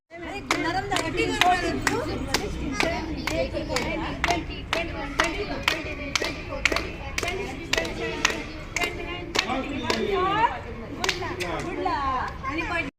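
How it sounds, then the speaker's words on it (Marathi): A group claps about thirty times at a 30th birthday celebration, each sharp clap in a steady, even rhythm, loud and close, with chatter and voices running underneath. "तुमच्या लक्षात आलं का टाळ्या किती वेळा वाजवल्या तीस वेळा वाजवल्या"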